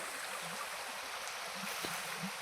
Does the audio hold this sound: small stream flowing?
yes